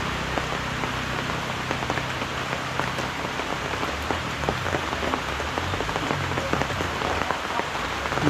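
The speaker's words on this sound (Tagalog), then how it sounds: "Lagi na lang umuulan." Steady rain patters on a surface, dense and continuous with scattered louder drops, no voices.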